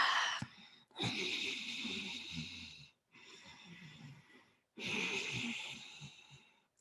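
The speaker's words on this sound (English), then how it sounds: "you could feel like or hear the effort that I have to make to really force that Ujayii breath" Forced Ujjayi yoga breathing: three long, hoarse, throaty breaths, each rasping for about two seconds with brief silent pauses between, close and clear with no talking.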